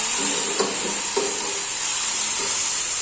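Morning glory stir-fries over a roaring open fire, giving a loud, steady, close sizzle with a few scraping stir clicks, and no voices.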